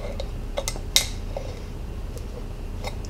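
A lid is worked loose from a container in a kitchen, making a few sharp clicks and small clatters with one louder snap partway through, close by against quiet background noise.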